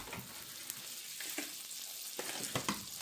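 Butter sizzles in a hot pan on a stovetop, giving a soft, steady frying hiss with a few faint crackles and clicks over three seconds, with no one talking.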